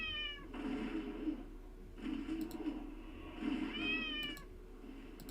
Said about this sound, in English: I gotta turn that meowing down